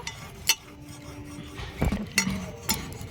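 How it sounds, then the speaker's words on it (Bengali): A boti blade cuts through a new potato, with short scraping rasps and a few sharp clinks scattered over a quiet background. "আলুটা কেটে নেব।"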